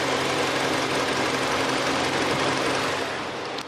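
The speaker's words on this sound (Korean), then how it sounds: "엔진 소음 먼저 들려드리면은" A 2017 Kia car's engine idles steadily, a close, even hum with a faint rhythmic pulse, continuous and alone before easing slightly at the end.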